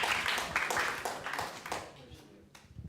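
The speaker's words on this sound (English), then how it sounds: "That deserves a round of applause." Scattered audience clapping at a jazz composition symposium, a modest burst of hand claps that thins out and fades toward the end, with some faint talk mixed in.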